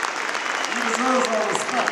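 A crowd at a rally in Baltimore applauds in a steady, moderately loud roar, with a voice and some shouts rising over the clapping.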